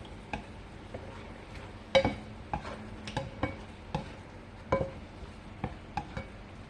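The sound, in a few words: mixing food in a pan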